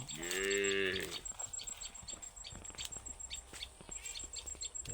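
A cow lets out one long, loud moo, followed by faint clicking and scattered soft chirps in the background.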